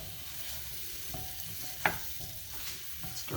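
A spoon stirs flour into broccoli cheddar soup in a pot, giving soft scraping and a faint sizzle, with one sharper clink of utensil on metal partway through; the sound stays quiet and close.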